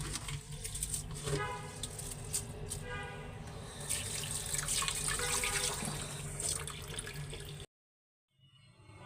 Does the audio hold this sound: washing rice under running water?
yes